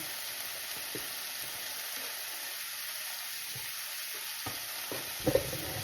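Onions and garlic hiss in hot oil in a pan alongside leftover fried chicken, a steady close sizzle with occasional soft spatula scrapes and a couple of louder knocks near the end.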